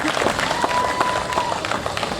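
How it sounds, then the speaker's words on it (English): Audience applause at a Stihl Timbersports show at the Royal Three Counties Show in Malvern, a steady crowd clapping throughout with voices mixed in. "a big round of applause for our judge on the end"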